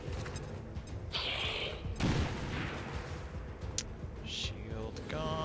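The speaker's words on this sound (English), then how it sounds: "Let's get a grenade on him." A grenade blast in XCOM 2 lands as one loud broadband burst about two seconds in, amid other game effects, brief tonal chimes and a busy background of battle sounds.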